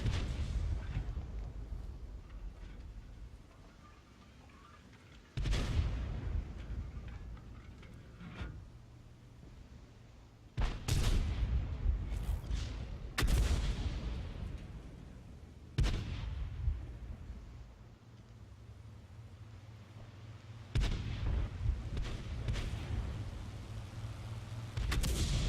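Heavy tank cannon shots in World of Tanks Frontlines, several loud booming blasts spaced a few seconds apart, each with a rumbling tail, over a low steady engine drone.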